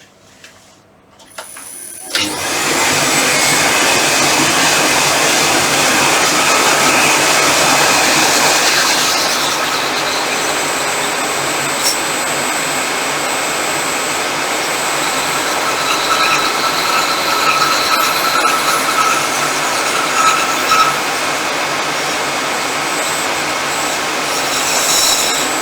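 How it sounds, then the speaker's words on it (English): Bandsaw cutting a wooden paddle for a whistle, a loud steady whine that starts abruptly after a brief rattle and runs unbroken for over twenty seconds, close and dominant. "I'll cut that on bandsaw"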